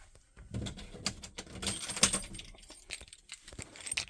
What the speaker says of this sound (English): If you don't believe me, I'll get the keys.